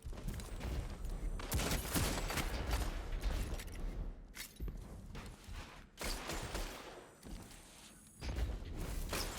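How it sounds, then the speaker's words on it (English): The Dire Promise hand cannon fires in a Destiny 2 Crucible match, heavy single shots booming one after another in uneven bursts amid other clatter of play. "hearing the Dire Promise going off is so nice"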